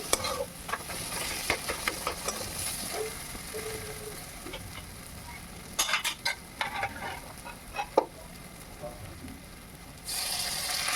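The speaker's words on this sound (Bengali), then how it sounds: "মশলা ভাজা হয়ে গেছে" Spices fry in hot oil in a pan for a tarka, with a constant sizzle broken by clinking scrapes and bursts of a spoon stirring against the metal, close up with no talk.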